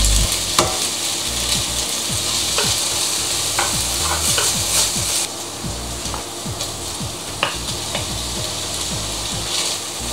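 Bitter melon stir-fried with pork and tofu in a hot pan, a steady sizzle running under repeated scraping and clacking strokes of a spatula that come in an uneven rhythm, close and fairly loud throughout.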